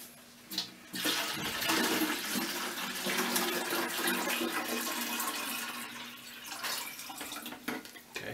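Water pouring steadily into the tank of a Levoit cool mist humidifier, a continuous close splashing gush that runs for several seconds without speech.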